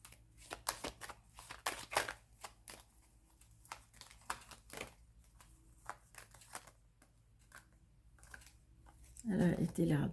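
Tarot cards are shuffled and laid out for a reading, giving soft, irregular papery flicks and snaps that sound close by, with a person talking throughout and a denser rustle near the end.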